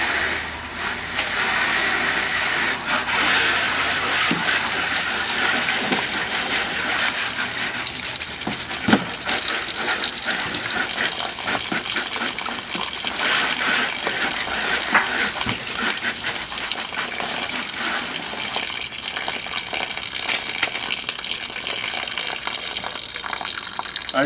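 Water gushing steadily from a garden hose outdoors while a rooster is being butchered, a continuous splashing hiss with occasional spatters and no speech.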